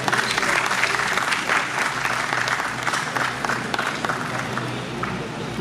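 A live audience at a Hindi literature event applauds to welcome guests onto the stage, with dense, steady clapping from many hands that fills the room and tapers slightly toward the end.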